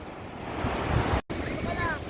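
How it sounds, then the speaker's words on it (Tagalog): Sea waves wash onto a beach with a rushing surf roar and gusts of wind buffeting the microphone, and a brief dropout cuts through the middle. "laki ng alon, laki."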